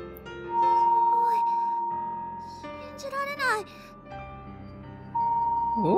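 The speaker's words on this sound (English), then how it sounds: "That meteor must be pretty big to sound like this" A loud radio echo of a big meteor in a visual novel game: sustained tonal ringing with rising and falling whistling sweeps over a steady hum, lasting several seconds alone.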